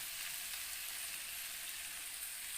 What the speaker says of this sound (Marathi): आता मसाला भाजतो चांगला